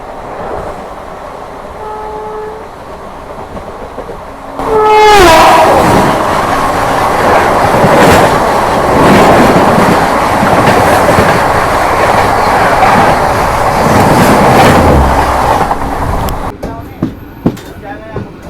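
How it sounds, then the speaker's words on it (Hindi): Kanchanjungha Express passenger train hauled by two locomotives, running on the Agartala–Sealdah route: a brief horn toot, then a loud, steady rumble of wheels and carriages with rhythmic clacking over rail joints, fading near the end. "अपने अभी ट्रेन में ना 2 लोकोमोटिव लगे हुए हैं"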